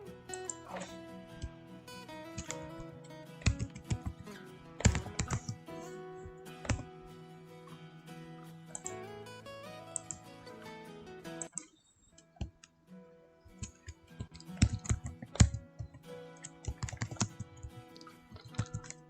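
Keystrokes on a computer keyboard while entering text in Excel, a quick run of sharp clicks with short pauses, close and clear, with a brief gap in the middle before typing resumes.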